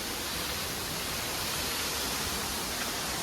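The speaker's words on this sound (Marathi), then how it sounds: "धबधबा पण आहे" A waterfall at Khopoli roars as a dense, unbroken rush of falling water, loud and steady throughout, with no voices.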